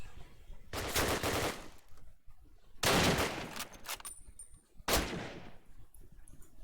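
A mounted machine gun in a competitive video game match rattles off three loud sustained bursts, each about a second long, separated by short pauses with faint game sounds between.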